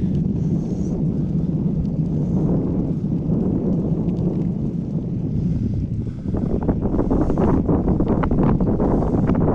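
Steady wind roars and buffets the microphone throughout, a loud, continuous rumble that gets gustier toward the end.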